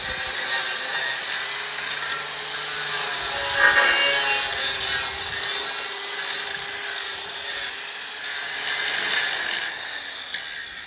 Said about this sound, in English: Just gotta clean it up with the grinder and burn some rods into it.